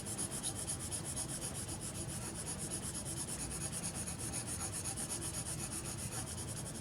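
Graphite pencil shading across paper while building a value scale: a steady, close scratchy rubbing that continues without pause and without any voices.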